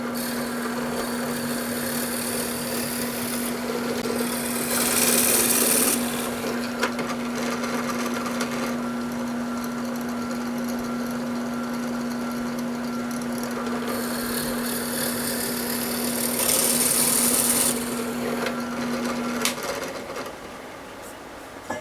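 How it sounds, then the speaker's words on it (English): A drill press bores two dowel holes in wood, its motor running as a steady hum throughout with two louder bursts of cutting as the bit bites in, one around five seconds and another near seventeen. "Using my drill press, I'm going to drill 2 holes for the dowels."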